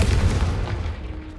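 A Confringo blasting spell explodes in the video game Hogwarts Legacy: a single deep, loud boom with a rumbling tail that fades over about a second.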